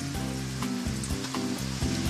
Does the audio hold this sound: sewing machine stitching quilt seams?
no